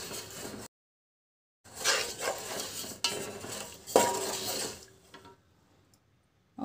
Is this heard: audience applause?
no